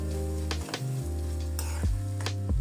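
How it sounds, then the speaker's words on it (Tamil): Onions and curry leaves sauté in a hot pan, giving a continuous sizzle with several distinct spatula scrapes against the pan at irregular moments. "இப்போ இதில் நம்ம கருவேப்பிலையும் சேர்த்துட்டு வதக்கி விட்டுக்கிற வேண்டியதான்"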